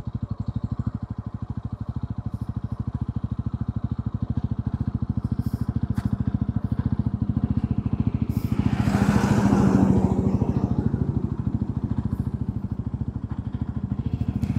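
A 350cc motorcycle on the highway gives a steady, close engine drone with rushing wind, swelling midway as it accelerates and then settling back to a constant cruise.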